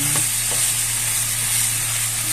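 Potatoes and chili peppers are stirred in a pot of chicken tinola with crabs, a steady soft sizzle and scraping that carries on evenly with a couple of brief utensil knocks near the start.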